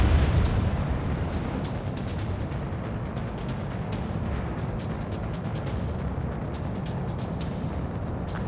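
Bombs dropped from a fighter jet in Ace Combat 7 erupt in a continuous, loud rumbling barrage of explosions over a desert, dense and sustained with scattered sharp crackles throughout.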